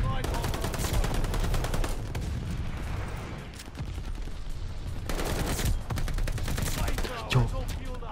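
Automatic weapon fire in Call of Duty Vanguard multiplayer: loud sustained bursts of rapid shots, a short lull in the middle, then another dense volley close by.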